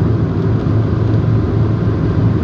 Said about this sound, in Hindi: इस टाइम मेरा गाड़ी जो है 100 की स्पीड पे जा रहा है